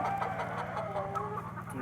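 Goliath-breed laying hens clucking in a poultry house, a steady mix of soft overlapping clucks and murmurs at moderate distance with no talk over them.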